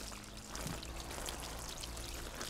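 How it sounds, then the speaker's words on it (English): Cold running water pouring onto a burn, a faint, steady close-up stream trickling throughout without voices. "Cool the burn under cold running water for at least 10 minutes."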